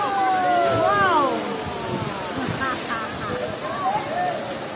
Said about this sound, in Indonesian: Air terjun Lampung Barat ini.